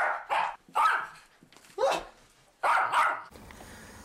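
Dog barking at a man selling cookies: several loud, separate barks in an irregular sequence, close by, with short pauses between them and no speech.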